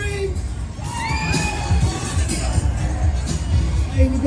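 Riders and onlookers at the High Voltage fairground ride scream and whoop in scattered bursts over a busy crowd din, with shrill cries rising and falling throughout.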